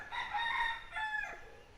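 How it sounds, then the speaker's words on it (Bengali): A rooster gives one fairly faint, slightly distant cock-a-doodle-doo crow on a monsoon morning in rural Baranti, Purulia. "এখানে ঘুম ভাঙবে মোরগের ডাকে"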